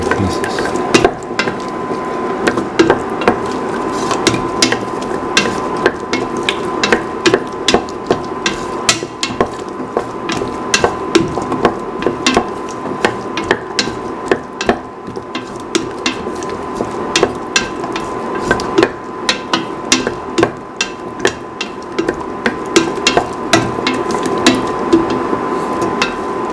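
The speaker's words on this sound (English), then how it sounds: "So I can mix the carrot pieces." Carrot pieces being stirred in a pot for a cauliflower coconut milk stew: a steady series of sharp metallic scrapes and clinks of a spoon against the pot, loud and close, repeating irregularly with no speech.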